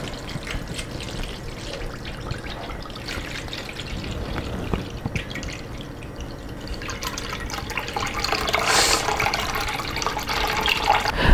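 Vodka poured into Jell-O mix for jello shots, a soft continuous liquid pour and trickle that grows slightly fuller toward the end.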